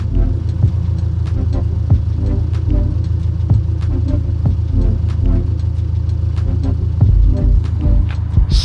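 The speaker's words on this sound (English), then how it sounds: "70 decibels is your idle currently right now, Christian." A Subaru WRX or STI engine idles with a steady, deep throbbing rumble, loud and close, continuous throughout with no one talking.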